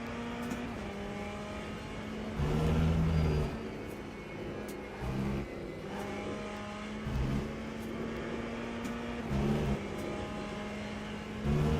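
Race car engine in the Le Mans Ultimate sim racing game, a steady near drone with gear-change surges and brief revving bursts repeating across the lap, no talking.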